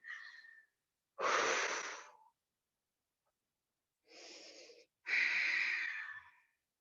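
Deep breaths taken during a yoga flow session: a slow inhale, a long audible exhale, then another breath cycle, close and breathy with silence between.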